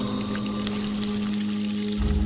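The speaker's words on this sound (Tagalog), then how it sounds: "Dinampot ang gomang hose na ang tubig ay patuloy na umaagos." Water running from a rubber garden hose, a steady close pouring splash with a constant low hum underneath, growing briefly louder near the end, and nobody talking.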